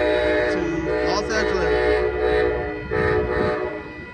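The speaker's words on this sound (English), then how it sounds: "here comes Amtrak Coast Starlight train number 11" Southbound Amtrak Coast Starlight train number 11, led by a P42 locomotive, passes on the Coast Subdivision at Edes Avenue in Oakland, sounding loud, sustained horn blasts over a heavy rolling rumble close by.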